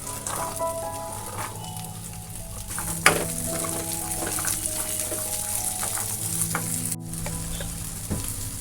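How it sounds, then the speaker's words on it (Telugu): Karonda berries are added to green chilies frying in hot oil, a steady close sizzle with spoon scrapes and clatters, one sharp knock around the middle and a brief cut near the end. "పచ్చిమిరకాయలు వేగిపోయాయి ఇప్పుడు మనం వాకాయలు వేసేసుకుందాం"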